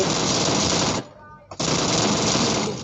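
Rapid automatic gunfire from an AK in a video game shooter, loud sustained bursts broken by a short pause before the firing resumes, dominating the mix.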